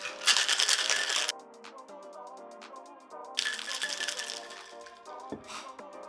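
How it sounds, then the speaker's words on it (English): Cocktail tins packed with ice shaken hard for a party drink, loud dense rattling of ice against metal in two bursts with a quieter ringing clatter between them. "We're gonna add ice to our tin. Combine our tins and shake."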